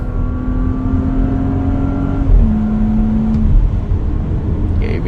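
A 2019 Porsche Cayenne S driving in Sport mode hums and pulls steadily from inside the cabin, its engine note stepping down partway through as it shifts gear, then continuing with road noise.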